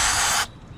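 Throttle body cleaner sprayed into the throttle body of a 2007 Ford F-150 with a 4.2L engine, a single close, loud hiss lasting under half a second before cutting off abruptly.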